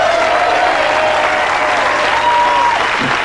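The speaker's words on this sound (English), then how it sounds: "Would you please help welcome the pit bull of comedy, Bobby Slayton?" A studio audience at a 1987 young comedians stand-up showcase breaks into loud, dense, sustained clapping as a comedian is welcomed on stage, filling the whole moment.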